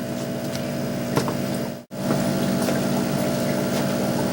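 A small water pump runs in a hydroponics tub, putting out a steady low hum and watery churn with one brief dropout midway, close and constant.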